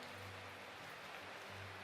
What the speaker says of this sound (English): this is just me or just the rain getting louder?